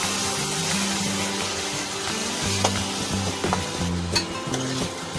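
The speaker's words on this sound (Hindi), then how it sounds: "इसको अच्छे से मिक्स करेंगे और इसको 5 मिनट तक रोस्ट कर लेंगे।" Grated apple for apple halwa is stirred and roasted in a pan, making a continuous close sizzle with scraping stir strokes and a few light utensil taps.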